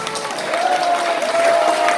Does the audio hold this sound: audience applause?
yes